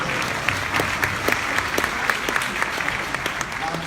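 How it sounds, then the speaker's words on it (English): A live audience bursts into a round of applause, dense steady clapping with a few sharper claps standing out, fairly loud and sustained throughout with some faint voices mixed underneath. "can we give her a round of applause for beating cancer as well"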